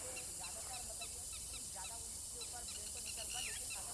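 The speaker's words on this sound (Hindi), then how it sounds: "आप यहाँ पर तीतर की आवाज़ सुन सकते हैं।" Faint, scattered chirping calls of a partridge in a jungle repeat throughout, alongside other bird notes over a steady high insect-like hiss, quiet and somewhat distant.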